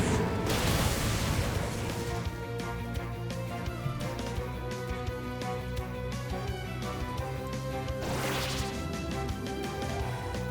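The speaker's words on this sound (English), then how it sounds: "the Aegislash goes and uses Substitute, but we're just going to break that with our Flare Blitz" Flare Blitz, a fiery attack, smashes through a Substitute in the Pokémon Champions battle game, with a whooshing crash at the start and another burst near the end over steady background music.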